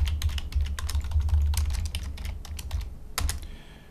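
Python code typed on a computer keyboard, with rapid, close, clicky keystrokes in an uneven rhythm that briefly pauses and then resumes with a few final taps.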